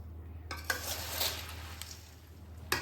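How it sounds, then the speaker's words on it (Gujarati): Jhalmuri, a Bengali street snack of puffed rice and mixed ingredients, being tossed and stirred in a bowl, giving a dry rustling scrape with a few sharp clinks of a spoon against the rim, close and fairly quiet, with no talk. "મિત્રો બધી સામગ્રી સારી રીતે મિક્સ થઈ ગઈ છે અને અહીંયા આપણી જાલમુડી તૈયાર થઈ ગઈ છે।"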